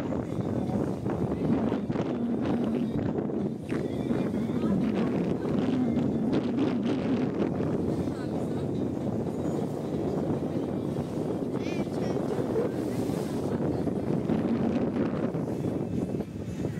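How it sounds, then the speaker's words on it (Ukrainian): Strong warm wind on the open sea near Sharm el-Sheikh, roaring steadily against the microphone with a boat's low rumble beneath and a voice talking faintly under it. "У відкритому морі дуже вітряно, але вітер цей приємний і теплий."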